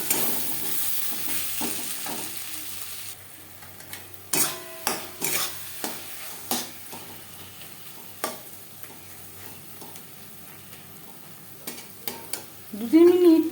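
Onion and chili powder masala with chopped tomato fries quietly in a pan for a Boal fish curry, marked by a series of sharp spatula knocks and scrapes against the metal, with a soft sizzle underneath.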